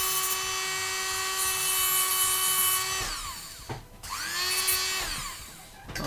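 A small power tool, likely a rotary tool, deburring a tiny craft part: a high steady whine for about three seconds, then several short bursts as the motor spins up and winds down.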